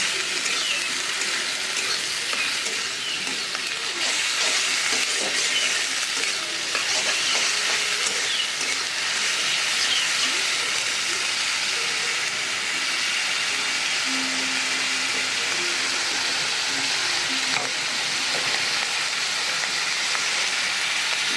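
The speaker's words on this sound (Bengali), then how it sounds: "ভালোভাবে ভাজতে হবে যাতে কাঁচা গন্ধটা চলে যায়।" Spices frying in a pan for a home-style Bengali egg curry, a steady close hiss of sizzling oil with occasional faint stirring scrapes, continuous and even throughout with no talk.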